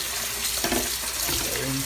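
Pineapple skins being rinsed under a running kitchen tap, a steady close stream of water splashing over them for about two seconds with light clattering as the peels shift in the sink.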